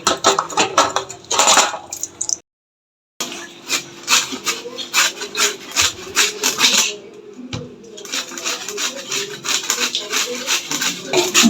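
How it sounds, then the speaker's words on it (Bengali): Carrots scraped on a hand grater on a kitchen counter, a steady run of close, rhythmic rasping strokes with a brief pause near the start and speech in the background. "আমরা গ্রেটার দিয়ে ঘষে নিচ্ছি"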